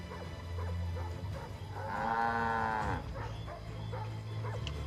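A cow in Assassin's Creed 3 moos once in a long, drawn-out low call, fairly close, over quiet ambient game background.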